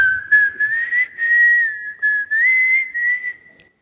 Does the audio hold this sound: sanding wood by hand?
no